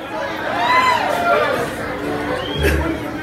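Murmuring crowd at a live country concert, a diffuse babble of many voices under someone speaking up close.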